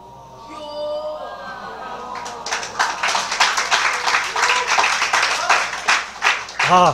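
Audience applause at a church revival gathering for a missionary and former national football player, starting after a voice and building into dense, sustained clapping that runs to the end.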